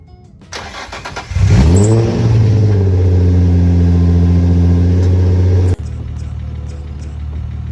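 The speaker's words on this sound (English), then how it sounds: "Guess we should get a cold start for the boys." An Infiniti G35 engine cold start: it cranks briefly, catches and roars up to a loud rev, then settles into a steady high idle with a soft lifter ticking.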